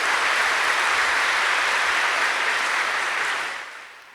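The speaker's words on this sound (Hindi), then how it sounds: "हाँ, जोर से ताली बजाओ" A large crowd claps loudly in a spiritual gathering hall, a dense sustained roar of applause that holds steady and then fades out at the end.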